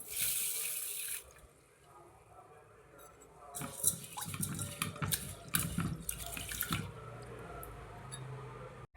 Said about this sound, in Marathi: आता हे तांदूळ स्वच्छ 4 ते 5 पाण्याने धुवून घ्यायचे